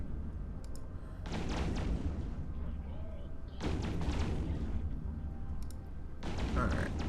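Three separate bursts of heavy gunfire in the Alpha to Omega game, each lasting about a second, sound at moderate level with quieter stretches and low rumble between them.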